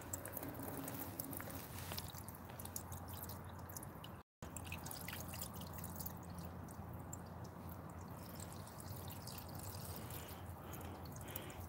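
Water and diesel fuel dripping and trickling from a drained fuel filter into a container, a steady wet patter of drops that runs throughout with one brief gap, close by and without talk.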